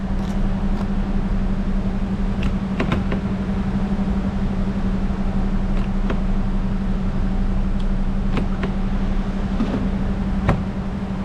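A car engine idles steadily with a constant low hum and drone, close and unbroken, with faint small clicks here and there.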